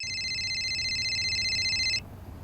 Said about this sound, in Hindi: अरे कोकिला देखो तो किसका फोन है?